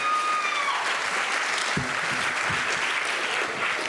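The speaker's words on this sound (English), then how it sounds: "Keep those claps going all the way up to the stage." Sustained applause from an event audience, dense and steady throughout, with faint voices and a few low thumps underneath.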